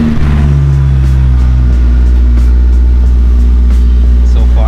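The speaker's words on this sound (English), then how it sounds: "We're gonna start the car." A Honda S2000 engine turns over and settles into a loud, close, steady idle hum, with a faint voice in the background.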